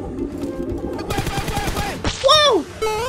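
Bursts of rapid gunfire in the mobile battle royale game PUBG Mobile, a quick rattling volley followed by whooshing and chirping game effects, with a voice talking over parts of it.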